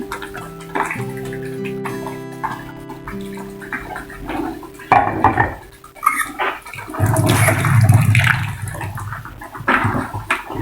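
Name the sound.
1 kg of meat added into gulai rendang pot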